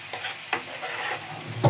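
Spices with salt and turmeric fry for a begun bahar eggplant pickle, giving a soft steady sizzle under a few scraping stirs, with a louder scrape near the end.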